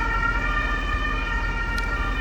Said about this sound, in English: There was an ambulance trying to reach the area and couldn't because there was a huge traffic jam already